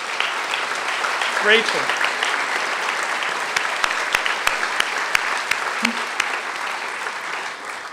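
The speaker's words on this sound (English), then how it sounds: "Let's give them a round of applause." An audience applauds longtime supporters at a talk by a speaker on the Journey of the Universe; sustained, even clapping fills the room, with a few sharper individual claps standing out and a brief voice near the start.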